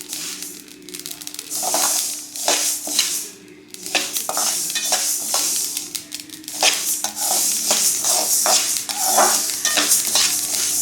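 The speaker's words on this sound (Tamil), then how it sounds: "உங்களுக்கு சவுண்டு கேட்கும். நல்லா படப்படான்னு பொரியணும். பொரிய ஆரம்பிக்குது பாருங்கள்." Mustard seeds splutter and crackle in hot oil in a pan, with rapid irregular pops over a steady sizzle, close and fairly loud, and a few scrapes of a stirring utensil.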